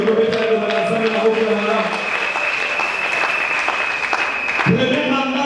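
A church congregation applauds at a French-language religious gathering, with sustained clapping from a large crowd under an amplified voice speaking over it.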